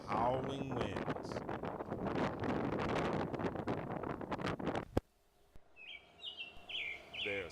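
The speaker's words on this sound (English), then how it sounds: "The birds singing" Springtime birds in Baltimore: after a stretch of loud, gusty wind noise, several high bird chirps and short song phrases ring out fairly close and clear in the quieter closing seconds.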